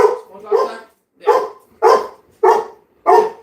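A pet dog barks five times in a steady series, close and loud, each bark a sharp burst with short pauses between; there is no other sound.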